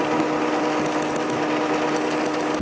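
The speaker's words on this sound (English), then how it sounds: "start tightening the bolts" Bolts on the alternator bracket of a fifth-generation Chevrolet Camaro SS are tightened, likely with a power tool, giving a continuous loud buzzing drone with a rapid ticking texture throughout.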